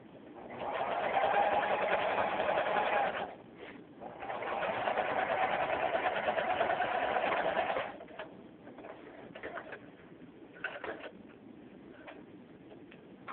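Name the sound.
sewing machine sewing a seam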